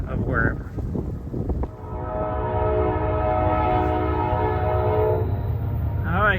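A loaded northbound Norfolk Southern coal train on the former N&W line at Chillicothe sounds a long, loud, steady horn blast over a low rolling rumble, after a brief stretch of nearby noise.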